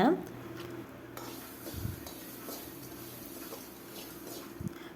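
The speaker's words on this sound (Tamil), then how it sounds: "இதெல்லாத்தையுமே சேர்த்து ஒரு தடவை கரண்டியால் கிளறி விடுங்க" Spices for a chickpea curry are stirred in a pot with a ladle, giving scattered metal scrapes and clinks against a steady low background hum, with a couple of sharper knocks near the start and end.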